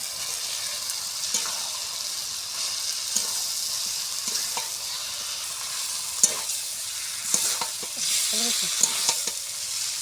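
Potato and cauliflower pieces frying in spiced oil in a pan, stirred with a spoon: a continuous bright sizzle with intermittent scraping strokes, close and fairly loud, with no voices.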